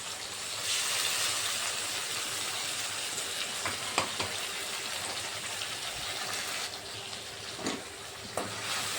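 Spices frying and sizzling in a pan for a Bengali potato, prawn and pointed gourd curry, a steady close hiss with a few sharp scrapes and clicks of stirring, no voices.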